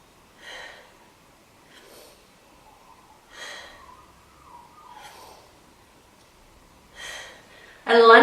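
Deep, audible breaths held in a yoga lunge pose: six or so slow inhale-exhale bursts spaced about a second apart, fairly close and quiet, ending in a louder abrupt noise.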